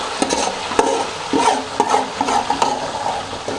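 Masala for chicken karahi sizzles and fries in hot oil while a spoon stirs and scrapes through it, giving a steady loud crackle broken by repeated clinks of the utensil.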